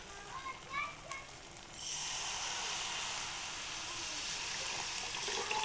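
Water poured into a pan of hot oil for a fish curry rassa: after a few faint clinks, a loud, steady hissing rush starts and keeps going to the end.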